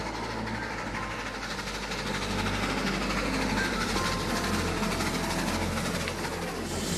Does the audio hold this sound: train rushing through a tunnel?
yes